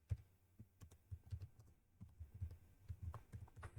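Quiet, close typing on a computer keyboard taps out a quick, uneven run of soft key clicks with low thumps, and no one speaks.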